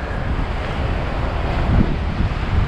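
Ocean surf and gusting wind along the Tenerife coast near Los Gigantes, a steady dense roar of breaking waves with wind buffeting the microphone, no voices.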